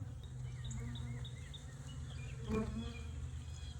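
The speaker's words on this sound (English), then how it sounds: "there's a lot of bees, so hopefully they'll be all right" A steady, low droning buzz of many honey bees at an open hive fills the space continuously, with occasional higher whines of individual bees flying past nearby, and some faint birdsong.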